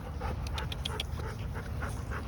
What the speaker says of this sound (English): Trying to get my dogs not to go wild here.